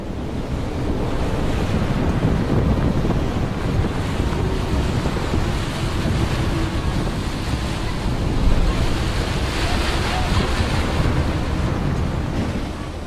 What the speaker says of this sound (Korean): 사이클론에 밀려온 파도는 높이가 4m에 달했죠